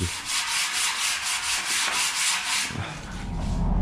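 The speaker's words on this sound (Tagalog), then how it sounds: "nililiha po ng liha na may tubig." Steady rhythmic rubbing of sandpaper over a wet door surface, close and continuous, with repeated back-and-forth strokes that soften near the end.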